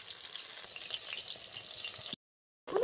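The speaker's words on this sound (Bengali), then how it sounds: "হালকা আঁচে ভেজে নেব।" Lote fish (Bombay duck) pakoras fry gently on low heat with a soft, bubbling sizzle that cuts to silence for a moment before resuming.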